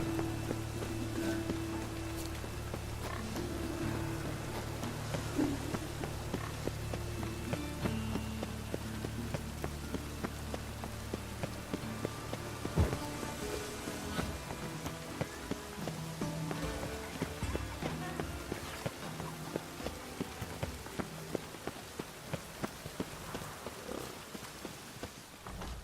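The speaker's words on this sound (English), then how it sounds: "it's raining again" Steady rain falls in The Witcher 3, a soft constant hiss that lasts throughout, with horse hooves clip-clopping and faint music underneath.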